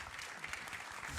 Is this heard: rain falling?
no